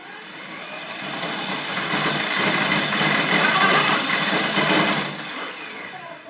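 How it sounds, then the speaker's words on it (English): An electric bike motor spins at very high speed, a steady loud whine with broadband rushing noise that swells over several seconds and then drops off near the end, with no voices. "the motor was spinning so fast that I thought the wheel was almost going to fly off"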